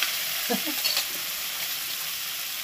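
Egg masala sizzles steadily on a hot tawa as spices go in, a loud, continuous close frying hiss with a few brief stirring scrapes near the start.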